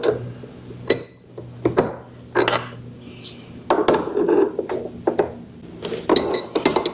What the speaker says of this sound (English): Put that in, tighten it down by hand, and then I'll tighten it with wrenches.